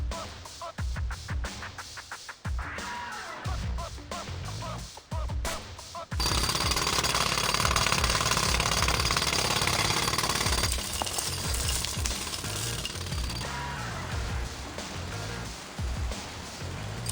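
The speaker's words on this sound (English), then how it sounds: "I need more time to finish hammering the hole!" A jackhammer drills a hole in the TMNT Mutants Unleashed video game, opening with bursts of loud rapid hammering before settling into a sustained, close, pounding roar that continues to the end, mixed with game sounds.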